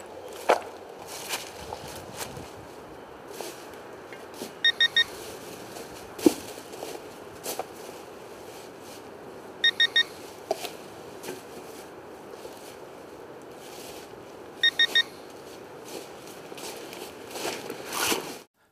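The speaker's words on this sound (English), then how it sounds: "the ProPointer AT will begin emitting warning chirps after 5 minutes of being on without a button" A ProPointer AT pinpointer metal detector emitting its automatic warning chirps, heard as faint short double and triple electronic beeps repeating about every five seconds over a rustling, knocking background.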